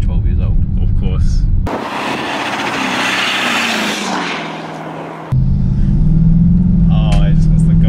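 ABT-tuned Audi Q7 with a V8 twin-turbo diesel accelerating hard, a loud rushing engine roar rising in pitch for several seconds, framed by cabin talk before and after.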